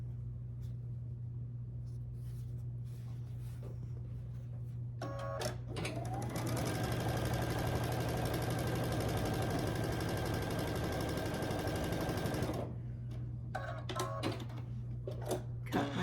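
Sewing machine joining quilt block pieces: quiet handling and a low hum at first, then a sustained close run of stitching for about six seconds, followed by light rustling as it stops.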